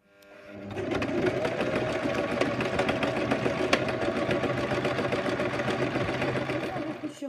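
A sewing machine stitches fabric seams on a cosplay warrior hip guard, running in a steady, continuous mechanical whir with a dense rapid stitch rhythm that holds close and loud from start to finish.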